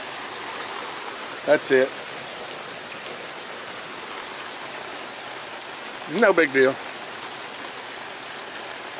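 Heavy, steady rain from Tropical Storm Alberto pours down continuously as a dense hiss, with someone speaking briefly twice over it.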